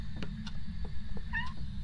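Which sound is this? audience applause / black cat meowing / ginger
black cat meowing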